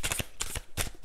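Tarot cards shuffled and handled during a reading, giving three bursts of quick papery riffling and slapping at close range with no talk.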